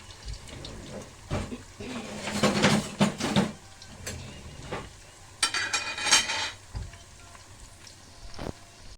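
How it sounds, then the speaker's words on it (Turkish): Meatballs sizzle in a pan with soft crackling and hissing, broken by a few sharp clinks and scrapes of a utensil against the pan. "köftelerimiz kızardı"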